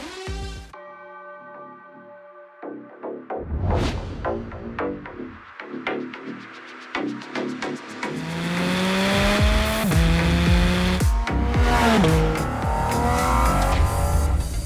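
Porsche 718 Cayman GT4 RS driving on the Streets of Willow race circuit northeast of Los Angeles, engine revving loud and close with rising and falling pitch through gear changes, sustained acceleration building in the second half.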